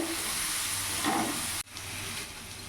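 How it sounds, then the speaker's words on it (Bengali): Onions frying in oil in a pan: a steady, fairly loud hissing sizzle, close up, briefly cutting out for a moment before resuming at a similar level, with no talk. "পেঁয়াজটা কিছুক্ষণ ধরে ভেজে নেবো, যাতে পেঁয়াজের কাঁচা ভাবটা গন্ধটা চলে যায়।"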